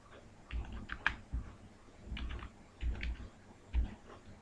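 Typing a quiz name on a computer keyboard, several short bursts of soft close keystrokes with small pauses between them, quiet and alone.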